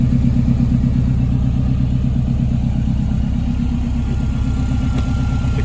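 Close, loud idle of a Subaru WRX engine mounted in the rear of a Mini, a low throbbing rumble that holds steady with only slight wavering and no voices.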